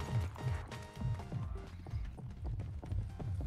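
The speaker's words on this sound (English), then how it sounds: "I hear another footsteps." Footsteps in the video game Fortnite patter in quick, steady rhythm, fairly close and continuous under the game's background sounds.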